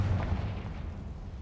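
A Confringo blasting spell going off in a wizard video game, a single deep booming burst that rumbles heavily in the low end and fades over about a second.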